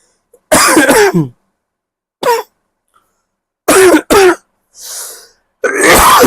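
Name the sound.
coughing and throat clearing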